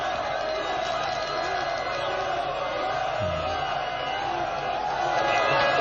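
Algerian national team fans celebrating in a square in Constantine: a dense, distant crowd roar holds steady throughout, with no distinct voices standing out.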